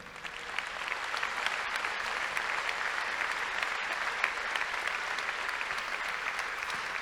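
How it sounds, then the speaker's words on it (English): An audience at a talk on realistic utopias bursts into steady applause, a thick, even patter of many hands that stays loud and continuous throughout. "je peux vous demander de les applaudir"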